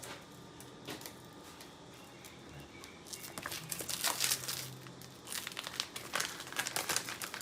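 A heat-resistant plastic zip bag is handled close by, giving quiet rustling at first, then louder, denser crinkling and crackling bursts over several seconds.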